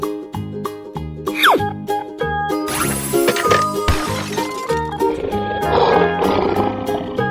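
A lion roars in a 3D animal slide video game, a growling roar mixed into busy looping game music with crash and smash effects, loud and close, without speech.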